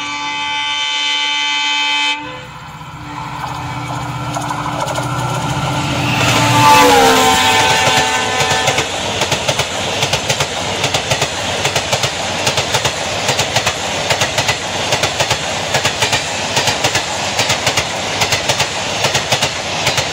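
The Mysore–Dadar Sharavati Express roars through a station at speed without stopping, a loud sustained rumble with rapid rhythmic clatter of wheels over rail joints, preceded by a brief horn tone.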